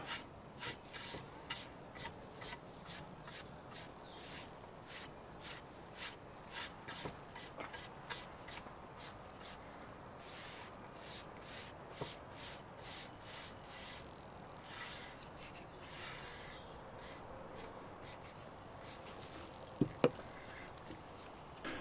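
Rag wiping stain off the wooden body of a semi-hollow guitar kit, soft repeated rubbing strokes in a steady rhythm, faint and close, with a couple of sharper taps near the end.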